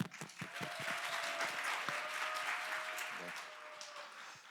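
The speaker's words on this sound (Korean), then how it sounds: "응원의 큰 박수와 함께 스피치 시작하겠습니다" Audience at a speech contest clapping warmly before a speaker begins, dense sustained applause from a crowd that starts with a few sharp claps, swells and holds, then tapers slightly, with faint voices mixed in.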